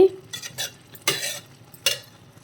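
A spoon stirs a drumstick and tomato curry with milk in a pan, making a few distinct scraping clinks against the metal over a faint background simmer.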